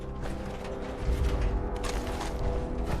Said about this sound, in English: Door's blocked from the other side somehow.